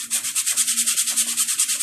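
A paint brush scrubs acrylic paint onto a canvas in quick, rhythmic back-and-forth strokes, close and bristly, about a dozen scrapes alone with no voice.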